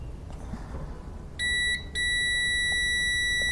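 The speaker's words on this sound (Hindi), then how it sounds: "अगर ये दोनों कंटिन्यू है तो बजर साउंड होगा।" A multimeter's continuity-test buzzer sounds while checking connections on a breadboard: a short electronic beep, a brief gap, then a longer sustained piercing tone, close and clear over quiet room noise.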